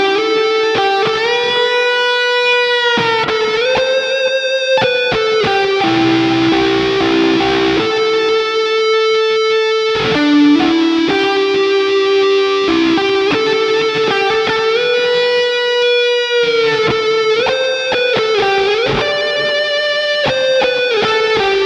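Electric guitar run through the Neural DSP Archetype Nolly X plugin with heavy distortion, reverb and delay, playing sustained melodic lines and chords, loud and steady throughout with no talking.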